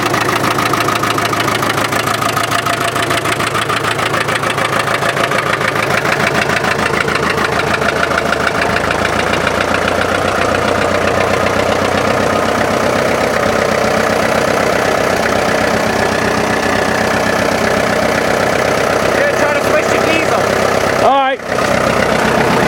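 A 1965 International TD6 diesel dozer engine runs loud and steady at a constant idle, a dense rumbling drone that continues unbroken for over twenty seconds, with a brief knock or bump near the end.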